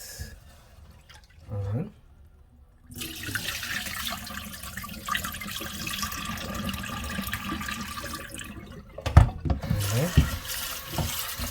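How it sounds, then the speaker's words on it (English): Rice being rinsed by hand in water, with splashing, swishing and trickling sounds, a louder burst of pouring water near the end; close and moderate, with someone speaking over part of it. "I like to wash the starch out of my rice"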